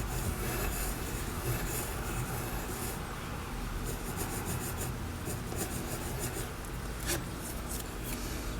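A pencil scratches and rubs across paper while a figure is drawn, a steady close scribbling texture with brief quicker strokes throughout.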